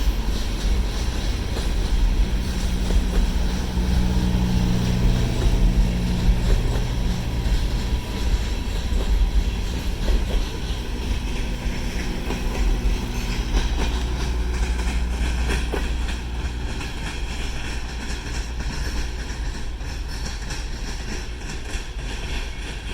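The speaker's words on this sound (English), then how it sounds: "This is a really short train." A short train rolls past at a small railroad park, its steady rumble and wheel clatter holding a loud, even level for about twenty seconds before easing slightly toward the end.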